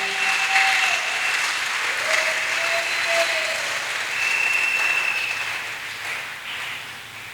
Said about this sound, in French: Est-ce qu'on peut applaudir pour la parole de notre Dieu?